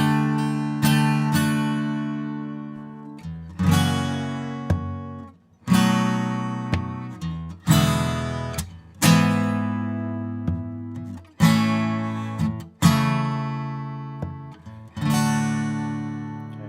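Strummed guitar playing a Nashville number chart progression in D, rhythmic chord hits in repeated bursts with accented pushes, clear and close with no talking.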